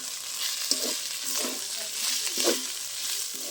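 Ginger garlic paste and cumin powder frying in a pan for a pointed gourd and shrimp curry, a continuous close sizzle broken by several scraping stirs, with no voices.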